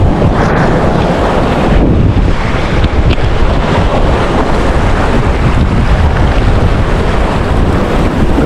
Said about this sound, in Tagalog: Grabe, nakakatakot yung mga alon.